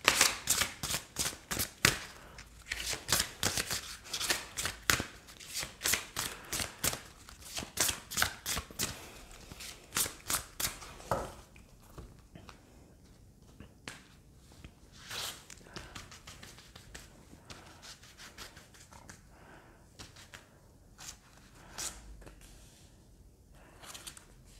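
Oracle cards are shuffled in quick riffling bursts for about ten seconds, close and crisp, then softer handling and card taps follow.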